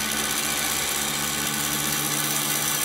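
Dremel rotary tool running continuously, a steady high-pitched whine with a low motor hum underneath, close and even throughout.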